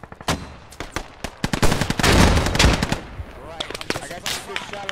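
Gunfire in the Squad video game aimed at an AT, a close burst of rapid automatic shots followed by a dense, loud cluster of cracks and booms, then scattered shots fading out.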